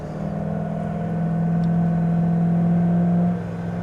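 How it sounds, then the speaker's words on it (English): A 2000 Dodge Ram 1500 4x4 Quad Cab pickup engine hums steadily while driving, its tone rising slightly and holding before easing off near the end. "I love the way the truck sounds."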